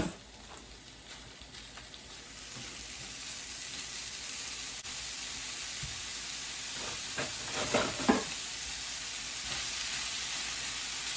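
Two pounds of ground beef browning in a pan give off a steady, broad sizzle throughout, with a few louder crackling bursts and stirring scrapes near the end.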